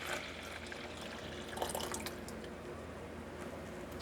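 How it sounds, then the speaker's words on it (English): Peach juice with strained bits of fruit is poured back into a pot, a steady, faint liquid trickle and pour with light dripping, heard close and alone with no talk. "We're pouring all of that back into our pot."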